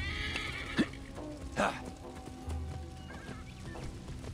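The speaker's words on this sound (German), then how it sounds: "Pferdchen." A horse in Assassin's Creed Origins gives a clear whinny and snort near a farmyard, with hoof clip-clops and a faint honk from fowl in the background.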